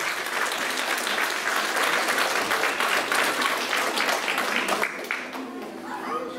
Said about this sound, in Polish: Proponuję wielkie brawa dla jury.